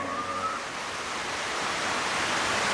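Cartoon water gushing up suddenly, a steady broadband rushing roar that swells slightly louder over a few seconds, with no talking.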